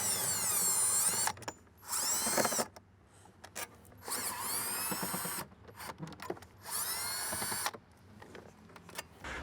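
A power drill removes 10mm bolts from a 2020-2023 Toyota Tacoma during a DSP amplifier install: four loud whirring bursts of a couple of seconds each, separated by short quiet gaps, close up.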